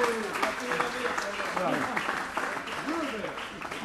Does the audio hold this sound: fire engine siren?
no